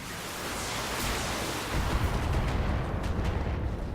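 A BattleTech mech fires all its weapons at once, a sustained roar of dense, loud, noisy blasts that thickens halfway through into a heavier rumbling barrage with crackling bursts.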